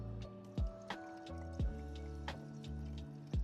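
Water being poured into the 5-litre tank of a Hava R09 countertop dishwasher in a camper van, a soft trickling stream broken by a few hollow glugs, close and quiet.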